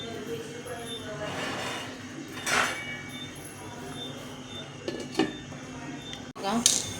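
A metal lid set onto a pot of boiling water while cooking kothimbir vadi, giving a few light clinks and a sharper clatter near the end over a steady low bubbling hiss, with a voice talking throughout.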